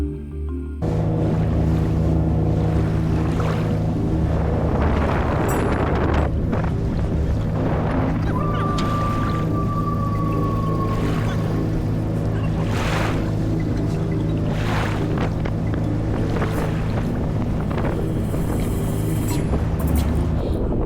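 Aboard a car ferry crossing to Bruny Island, Tasmania, there is a steady engine hum with wind rushing over the microphone and water noise for about twenty seconds, loud and continuous, with a brief tonal whine partway through.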